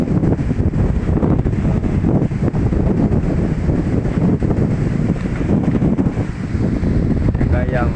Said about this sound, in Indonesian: Ini anginnya sangat kencang sehingga ini anginnya sangat kencang sekali.